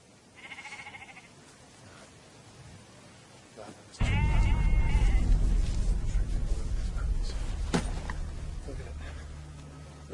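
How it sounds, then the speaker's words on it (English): Sheep bleat in a field, a few calls early on, then a louder, busier stretch of bleating over a steady low rumble of wind or movement, with several overlapping animal cries. "nothing but bloody sheep"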